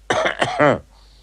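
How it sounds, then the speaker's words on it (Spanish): A man gives a short sequence of throat-clearing coughs of varying length, the kind used as coded communication between prisoners, loud and close, followed by silence. "toses más cortas, toses más largas, y nos permitía alguna forma de comunicarnos"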